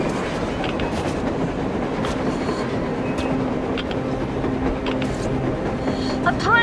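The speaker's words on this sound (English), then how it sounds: "A train! A damn train on the surface!" Rumbling train rolling across the surface in the video game Metro Exodus, a steady continuous roar with faint clattering and occasional metallic squeals, with voices talking over it.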